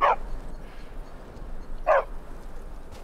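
A dog in the Skyrim video game, Beyond Skyrim Bruma mod, gives two sharp, close barks about two seconds apart over quiet ambient hum.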